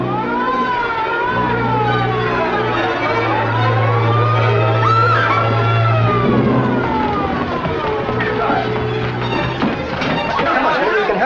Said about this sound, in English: It's a siren. Probably an ambulance or a police car.